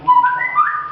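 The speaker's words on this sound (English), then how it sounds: "That's my phone. Ignore it." A mobile phone chimes with a short, rising melodic notification tone, clear and fairly loud, with no talk over it, in a home where someone is curling their hair after a shower.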